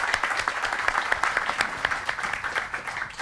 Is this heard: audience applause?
yes